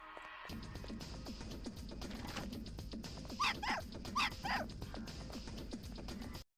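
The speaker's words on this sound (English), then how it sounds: "Oh, there's the dog. It's the same barking sound as the white dog in the mission" Dog barks from the video game Hitman: Blood Money, two short clusters of yipping barks midway through, heard over a steady bed of game ambience and music.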